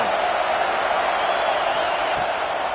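A packed college football stadium crowd at a Gators game keeps up a steady roaring wash of noise, loud and continuous, with faint cheers rising through it.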